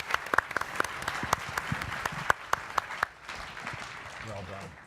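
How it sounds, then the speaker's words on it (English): An audience applauding at the close of a leaders' panel discussion at a technology conference: a few seconds of scattered, moderately distant clapping that quickly dies away into quiet room noise, with a voice faintly present. "Round of applause."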